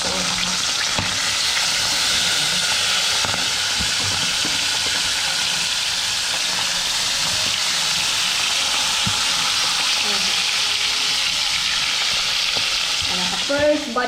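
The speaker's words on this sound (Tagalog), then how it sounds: "First batch na tayo ng prito." Steady, loud sizzling and crackling of snakehead fish frying in hot oil, continuous throughout with occasional pops and faint clatter.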